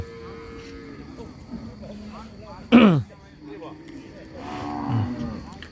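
Cattle and buffalo at a livestock market: one loud, close low moo stands out midway, with fainter lowing in the background and someone talking over the crowd noise throughout.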